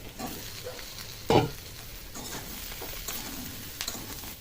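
Ridge gourd and green chilli go into a pan of chopped onion and fry steadily with a constant sizzle, broken by one louder clatter of stirring near the start. No one speaks.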